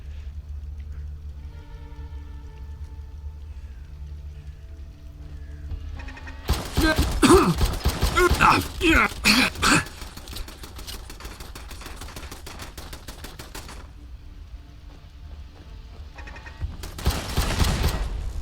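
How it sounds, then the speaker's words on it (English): Rapid bursts of heavy machine gun turret fire in the game Fallout London, a dense clattering volley in the middle and another short burst near the end over a low ambient rumble. "Like I said, this is a heavy machine gun turret."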